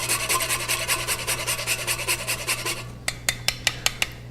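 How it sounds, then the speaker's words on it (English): Whole nutmeg rasped over a bowl of potatoes for a purée: rapid, steady back-and-forth scraping strokes for about three seconds, then a few separate sharp taps near the end, close and clear over a low steady hum. "And then my nutmeg. So just run that over your potatoes."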